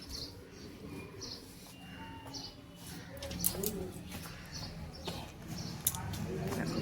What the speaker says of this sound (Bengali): পাখি ডাকছে কি সুন্দর